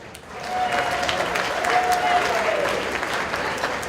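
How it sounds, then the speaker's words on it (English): Wedding guests at The Merion in Cinnaminson, NJ applaud after a toast, a sustained roomful of clapping at moderate distance that swells and slowly fades, with a brief tone and some voices beneath. "How about another round of applause there?"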